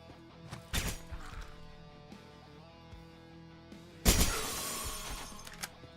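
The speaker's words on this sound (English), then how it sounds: "Good glass sound." Glass shatters in the video game Quasimorph, two sharp crashing breaks about three seconds apart, the second louder and longer with scattering shards, over a low game background hum and no talking.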